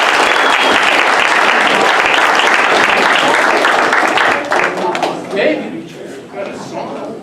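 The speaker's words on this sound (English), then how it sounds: "Give them a round of applause, all of them" Loud, dense applause from the audience at an improv comedy show, sustained for several seconds before thinning and fading, with voices heard as it dies down.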